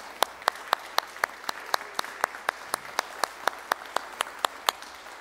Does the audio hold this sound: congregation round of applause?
yes